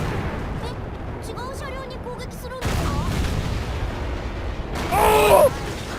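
Tank cannon fire in World of Tanks around an FV201 (A45) and a Centurion: heavy booming blasts with rumbling tails over game ambience, with a voice commenting excitedly throughout.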